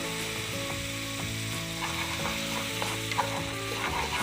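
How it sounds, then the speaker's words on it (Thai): Minced pork and Korean chili sauce stir-fried in a pan with a little water, giving a steady close sizzle under scraping, clattering stirs, for tofu in Korean chili sauce. "พริกเกาหลี ผัดไปให้เข้ากับหมูบดของเราก่อนครับ"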